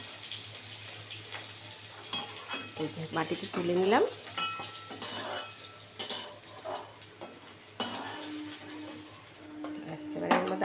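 Shing fish fry in oil with a close sizzling crackle, broken by scraping and stirring clatter from the pan, while a voice talks briefly.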